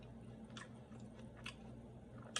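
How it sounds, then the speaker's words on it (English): Close, quiet chewing of a raw vegan salad with arugula, watercress and crunchy rice: several soft crunchy bites spread across a couple of seconds over a low steady background hum. "the crunch of the rice."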